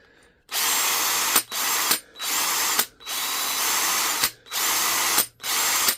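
A Parkside PABS 20-Li G8 20V cordless drill whirs loudly on its high-speed setting in five bursts, each trigger pull followed by a brief spin-down pause.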